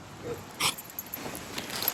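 A dog whimpers and wheezes in short strained bursts, with one louder yelp-like whine partway through, close by.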